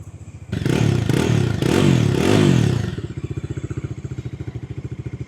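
A 2025 Bajaj Dominar motorcycle cranks over with a loud starter clatter, then catches and settles into a steady, rhythmic thumping idle close by, with no talking.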